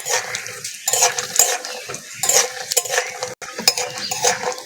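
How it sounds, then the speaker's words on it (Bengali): Raw peanuts frying and being stirred in a pan, with repeated scraping and clinking of a utensil against the metal over a steady crackling sizzle, close and fairly loud, no talking. "এবার কাঁচা বাদাম ভেজে নেব"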